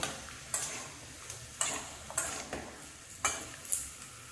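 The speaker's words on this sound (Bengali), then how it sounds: "সব কিছু আমি মশলার সঙ্গে কষিয়ে নিয়ে আসি" Chickpeas and paneer are stirred with spices in a pan for a Bengali paneer ghugni, with rhythmic scraping strokes repeating roughly every half second to second over a soft sizzle, close and moderately loud, with no talking.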